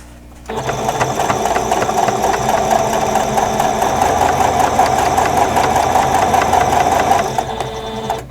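A sewing machine stitches a quilt block, running steadily and speeding up, its rapid mechanical clatter loud and continuous for most of the stretch before stopping near the end.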